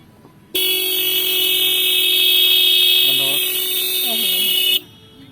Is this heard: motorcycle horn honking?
yes